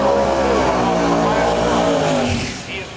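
A Camaro drag racing car roars down the strip, its engine a loud, sustained rising drone that fades toward the end as it pulls away.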